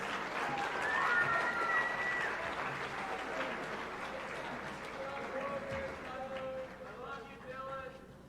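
Audience at a high school senior academic and athletic awards ceremony clapping for recipients, a moderate, fairly distant patter of applause that fades slowly, with voices heard over it.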